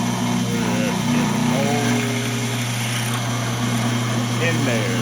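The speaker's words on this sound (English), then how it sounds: "Spinning way too fast for drilling right now" A drill spins fast with a steady, loud motor whine while preparing to bore holes in a platen, with a voice speaking over the hum.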